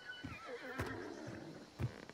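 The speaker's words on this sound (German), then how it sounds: "ich laufe einmal über das Pferd rüber" A horse in the video game Hunt: Showdown whinnies in a short, faint burst, with a quick snort near the end and a little hoof movement.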